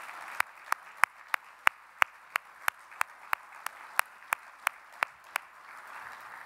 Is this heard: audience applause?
yes